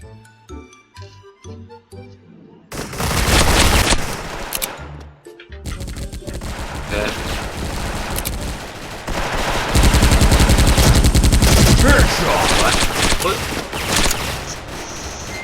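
Rapid bursts of gunfire in the online shooter Special Force, heavy automatic shooting that swells loud in long volleys with brief pauses, plus some clinking.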